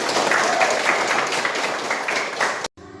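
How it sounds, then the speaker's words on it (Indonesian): A classroom of students claps together in a steady, fairly loud burst of many hands that cuts off abruptly near the end, leaving a brief quieter tail. "Oke, tepuk tangan."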